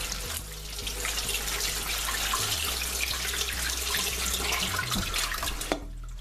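Tap water runs steadily into a kitchen sink while raw chicken is rinsed for a curry, a continuous splashing rush with shifting tones as the chicken moves under the stream, ending abruptly near the close.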